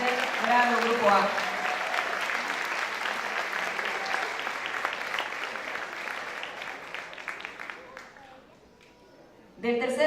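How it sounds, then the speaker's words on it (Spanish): Steady applause from an audience at a school closing ceremony, clapping continuously for about eight seconds before fading out, with a brief noise returning at the very end. "Brindémosles un fuerte aplauso a los chicos del tercer grado Grupo A."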